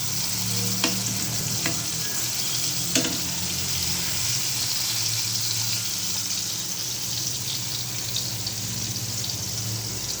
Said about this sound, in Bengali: পটল ভাজি করতেছি।